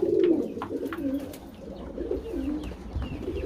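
Several pigeons coo in overlapping low, rolling calls, close and continuous, with faint chirps in the background.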